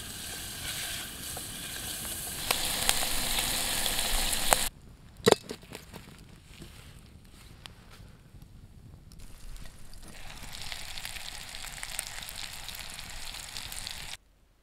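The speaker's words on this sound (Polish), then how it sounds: "Podsmażam boczek." Bacon fries in a pan at a winter tent camp in the woods, a loud steady sizzling hiss that drops away, leaving scattered clicks and taps, then returns more softly and continues.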